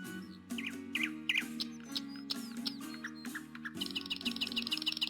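A nightingale in a palace sings a string of quick, high chirps and tweets over a steady musical backing, loud and close.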